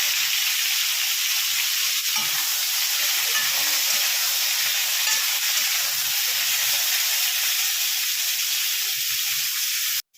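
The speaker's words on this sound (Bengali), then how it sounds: "আমি আবার এঁচোড়টা তেলের মধ্যে দিয়ে দিচ্ছি। দিয়ে একটু ভালো করে ভেজে নিচ্ছি।" Raw jackfruit pieces frying in hot oil give a loud, steady, dense sizzle that holds unbroken for about ten seconds, with faint low stirring knocks underneath and no voices.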